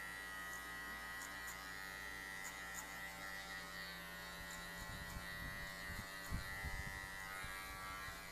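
Electric hair clippers buzz in a steady, even drone while cutting a taper fade, with faint rustling and brushing of hair toward the end.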